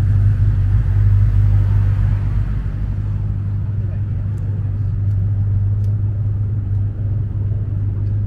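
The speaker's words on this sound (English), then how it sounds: "Sorry about that loud car there." A loud car rumbles past close by on a narrow North End street in Boston, its deep engine drone swelling then easing away over city background noise.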